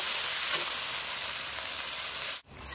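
Fried masala for boal fish kalia hisses loudly and steadily in the pan before a sudden break as water is poured in, followed by a softer bubbling hiss.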